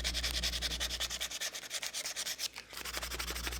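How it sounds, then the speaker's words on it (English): Sandpaper rubbed back and forth over the front edges of a wooden wall clock, a steady rhythmic scratching of quick strokes, close and clear, with a brief pause near the middle. "Then I'll soften the front edges with sandpaper."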